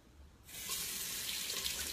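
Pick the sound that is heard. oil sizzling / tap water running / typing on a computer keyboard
tap water running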